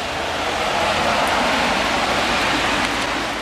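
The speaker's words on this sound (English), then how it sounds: "Oh, now it's rain." Steady rain pours down just after a hard hailstorm, a dense, continuous wash of drops hitting surfaces close by with no break and no voices.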